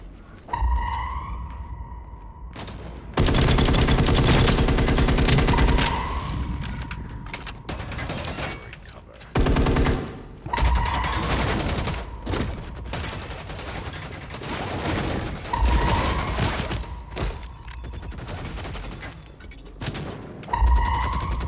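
Sniper gunfire in the online shooter Eve Vanguard during a Lost Convoy playtest: loud booming shots and bursts of fire, with mechanical clatter and creaks in between, across a busy battle.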